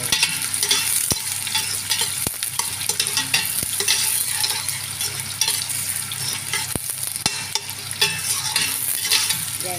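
Onion and garlic frying in a pan, a loud close sizzle that holds steady throughout, punctuated by a few sharp clicks and taps of a utensil against the pan, no talking.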